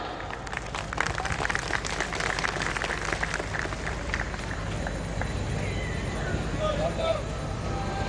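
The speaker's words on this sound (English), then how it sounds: "let's give our talented performers a huge round of applause" School annual day audience applauding in a hall, a thick, steady patter of clapping from a crowd over a low rumbling background, holding at a moderate, even level with faint voices mixed in.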